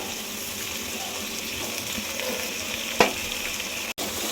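Washed, chopped fenugreek leaves fry in a pan for pulao, giving an even, close sizzle with light stirring and one sharp clack of a utensil near the end, and no talk.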